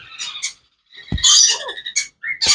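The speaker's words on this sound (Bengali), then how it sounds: "দেখতে পাচ্ছেন অনেক পাখি নিয়ে আসছি" Super red factor sun conure parrots give loud, harsh squawking calls in a few bursts, close and alone with short pauses between.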